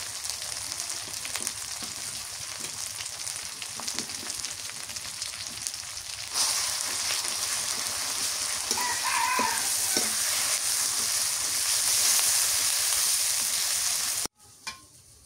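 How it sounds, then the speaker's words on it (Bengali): Onion paste with turmeric and chili powder frying in oil for a kalbaus fish curry makes a long, steady sizzle that swells partway through, with faint clinks of stirring and a distant rooster, before cutting off abruptly near the end. "মশলা কষানো হয়ে গেছে, টমেটো দিয়ে কষানো করি।"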